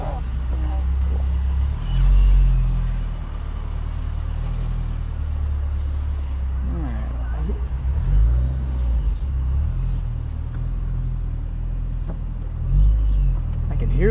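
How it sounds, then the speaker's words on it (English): A supercharged 2003 Honda S2000 AP1 drones along with a steady low engine rumble and a faint whine, swelling a few times under acceleration while people talk inside the car. "I can hear the supercharger."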